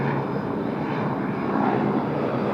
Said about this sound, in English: We got one of our Rex Saabs just arriving from Wagga Wagga this morning.